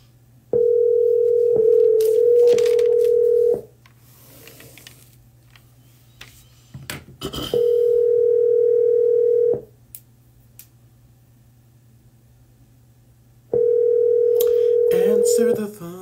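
A telephone ringback tone sounds while a call waits for an answer: three long, steady, loud tones separated by pauses, with faint noises in the gaps.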